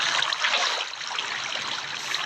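Water trickles and splashes steadily in a survival video game, a bright, continuous pouring dribble heard alone at moderate loudness.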